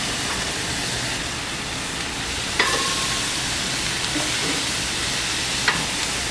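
Korean ribs coated in gochujang chili paste sauce sizzling as they cook, a dense, even hiss throughout with a few faint clinks near the middle and end.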